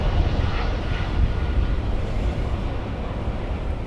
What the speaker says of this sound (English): perhaps we'll be lucky and it'll take off here on runway 18 right